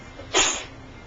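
A single sharp, breathy sneeze bursts out close by, brief and loud against a quiet background.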